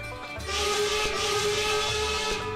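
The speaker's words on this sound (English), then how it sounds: "There we go. 2 blasts of the whistle." The whistle of a steam locomotive, NYC&HRR 999, sounds in the Railworks train simulator video game as a sustained tonal hiss that holds steady for about two seconds over a low rumble.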